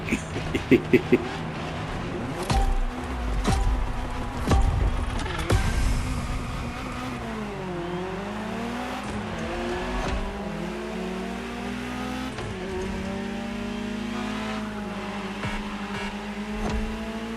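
Cars race in The Crew Motorfest video game, a Ferrari supercar engine revving and whining through rising and falling pitch sweeps as it shifts gears, steady and loud with a few heavy thumps early on.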